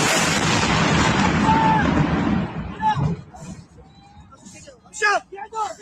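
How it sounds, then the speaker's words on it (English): Explosions heard from the ground during strikes in Iran, starting with a loud rumbling blast and roar that fades, followed by scattered pops and bangs with voices shouting in between. "Some of these explosions from the ground."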